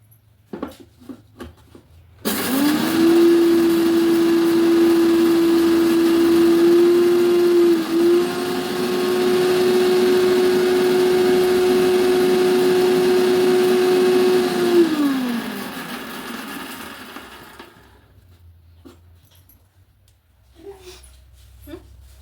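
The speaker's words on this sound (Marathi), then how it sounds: "आता लावून घेऊ मिक्सर" An electric mixer grinder starts abruptly and runs with a steady, loud motor whine while grinding green chilli, cumin and garlic, holding for about twelve seconds before winding down to silence, with brief faint sounds before and after.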